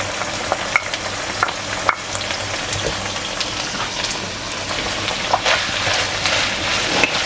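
Barberries tossed briefly in a hot pan while cooking Persian mash polo with chicken, giving a steady dense sizzle with scattered stirring clicks throughout.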